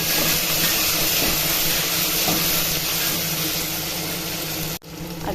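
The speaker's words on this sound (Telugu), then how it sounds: "నెక్స్ట్ పుదీనా, కొత్తిమీర, కరివేపాకండి. ఇవన్నీ వేసి కొంచెం ఫ్రై." Onions, green chillies, mint, coriander and curry leaves frying for bagara rice, a loud steady sizzle that runs unbroken before cutting off abruptly near the end.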